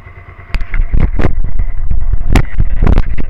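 A 2002 Suzuki SV650 motorcycle with the choke fully down, idling at about 1,000 rpm and refusing to run properly: a loud, close, uneven throbbing engine note with irregular pulses and bursts.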